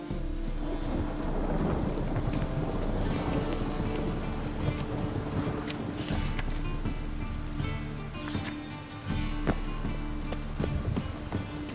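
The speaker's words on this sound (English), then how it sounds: "A storm, damn it." Steady rain pours with rolling rumbles of thunder throughout a storm in The Witcher 3, continuous and dense, with no voices.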